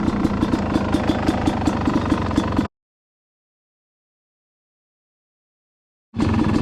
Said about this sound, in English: The bike's not loaded up, it's idling perfectly.